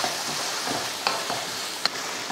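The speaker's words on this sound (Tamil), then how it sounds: "நல்லா வதங்கட்டும்." Tomato masala paste with green peas sautéing in a pan for a lunch-box rice dish, a steady close sizzle broken by a few sharp clicks of a spoon scraping and stirring, with no talk.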